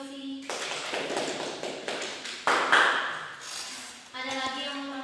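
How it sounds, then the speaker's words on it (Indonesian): A classroom gives a student a round of applause: about four seconds of scattered, moderate clapping that rises between stretches of a teacher's voice. "Beri aplaus untuk Yosi."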